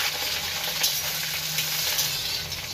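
Drained pointed gourd sizzles steadily in hot mustard oil in a wok, after a five-spice tempering, with a dense, continuous hiss at an even level throughout and no talking.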